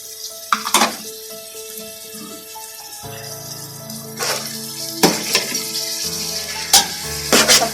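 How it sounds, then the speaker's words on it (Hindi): Peas, carrots and capsicum stir-fried for vegetable fried rice sizzle steadily in a hot pan, with several sharp scraping stirs of the spoon and occasional clinks along the way, and no voices. "सबको डाल के अच्छी तरह से मिक्स करूंगी"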